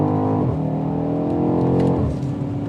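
Engine of a 2021 BMW X5 M Competition revving under throttle, a loud steady harmonic drone that climbs in pitch, drops as it shifts, then climbs again, close and continuous with no talking.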